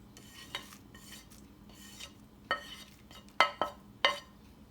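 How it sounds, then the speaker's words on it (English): Homemade liquid soap mixture stirred in a pot, with soft scraping strokes that build into a few sharper metallic clinks of the utensil against the pot rim near the end. "I'm finding that stirring it is helping the bigger pieces melt"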